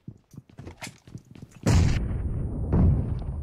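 Bomb blasts in a shooting video game: a string of quick, sharp popping shots is followed by a loud, heavy boom and a second rumbling blast, close and dominant.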